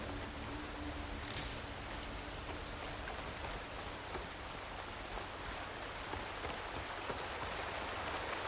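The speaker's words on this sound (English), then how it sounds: "Down to a drizzle." Steady rain falls in the Horizon Forbidden West game world, a constant even hiss of drops on surfaces at moderate, soft loudness, with faint low ambient hum beneath and no talk.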